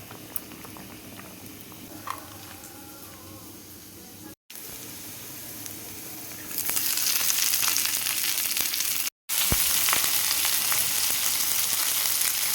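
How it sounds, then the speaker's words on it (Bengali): Meat fries and bubbles in a pot as coriander leaves are stirred through, a dense sizzling patter that cuts out briefly twice and returns louder and brighter, with no talk. "একটু ধনে পাতা দিয়ে নাড়িয়ে দেবো।"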